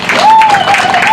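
Applause from an audience at a scholarship beneficiaries event hosted by a governor, crowd clapping under a steady tone, loud and continuous with some voices mixed in.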